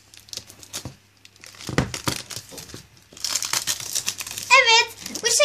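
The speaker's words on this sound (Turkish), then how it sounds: "İlk öncelikle şeffaf plastiği çıkartalım." Clear plastic packaging is crinkled and torn off a Barbie doll box, with bursts of crackling and tearing spread across the clip and a voice talking between and over them.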